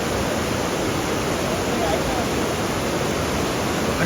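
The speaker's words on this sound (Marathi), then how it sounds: "पुन्हा एकदा जोरदार पावसाचं आगमन झालंय" Heavy monsoon rain pouring down in the Konkan, a loud, dense and unbroken hiss of rainfall filling the whole scene, steady from start to finish.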